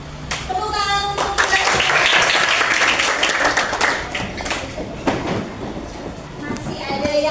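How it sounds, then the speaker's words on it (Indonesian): Classroom clapping during a school lesson, a scatter of sharp hand claps mixed with children's voices and chatter, fairly close and continuous. "Tepuk tangan untuk"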